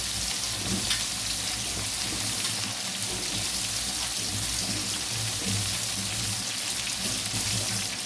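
Fish frying hard in a pan over a high flame gives a steady, dense sizzle that crackles continuously at close range, with no talking.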